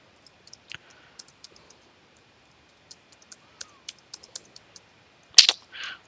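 Light keystrokes on a computer keyboard tap out a password, a sparse irregular run of soft clicks, ending in a couple of louder, sharper key hits.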